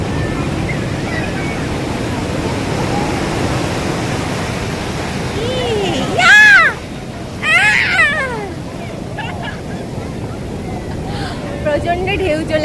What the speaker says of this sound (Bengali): প্রচন্ড ঢেউ চলে এসছে